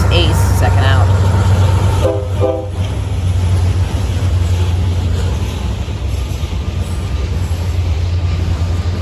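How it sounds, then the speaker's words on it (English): A Norfolk Southern eastbound manifest freight train rolls through Berea behind NS locomotives, making a loud continuous rumble of wheels and wagons close by, with a brief horn blast early on. "an unknown Norfolk Southern eastbound manifest made its way through Berea"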